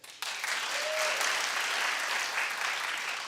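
Studio audience clapping during a Billboard Music Awards recap show, a dense, steady burst of applause that starts abruptly and holds at even loudness throughout.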